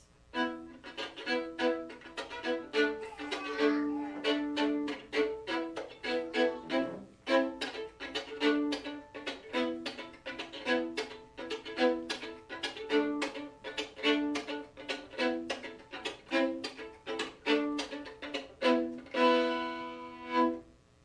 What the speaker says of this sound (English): did anybody here know that you can use the violin as a percussive instrument?